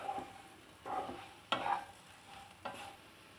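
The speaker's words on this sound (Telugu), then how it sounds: "వీటిని ఇప్పుడు 1 నిమిషం పాటు బాగా కలుపుదాము" Onions and eggs are stirred with spice powders in a pan, producing a few soft scraping strokes spaced about a second apart over a faint sizzle, close and quiet, with no speech.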